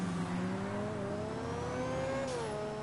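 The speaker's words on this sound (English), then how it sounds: "Ooh, listen to that freaking turbo." A turbocharged car engine in a Grand Theft Auto game revs steadily with a rising and falling whine, loud and close, with no voices.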